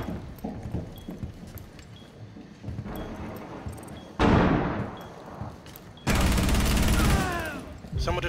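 Gunfire in Rainbow Six Siege on the Hereford Base map, loud bursts of automatic fire in repeated volleys between quieter stretches, with muffled footsteps and game noise underneath.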